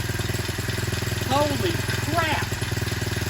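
A Hankai 4 horsepower four-stroke outboard engine catches and runs at a steady idle, its low mid-pitched putter continuous and close, while a voice briefly exclaims over it.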